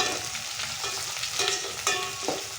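Chopped tomatoes sizzle and crackle in a hot pan for a homemade chicken masala, a steady close frying hiss broken by a few light stirring scrapes.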